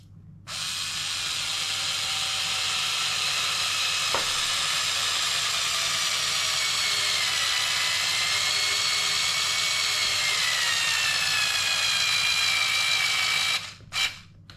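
A power drill drives screws into an Arrma Kraton RC car bumper, giving one long, steady, high-pitched whirring run that holds for over ten seconds before stopping, close and without talk.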